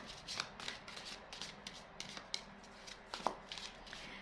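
Tarot cards being shuffled during a love reading, a run of soft papery riffles and taps with a few sharper snaps, close and fairly quiet with no talking.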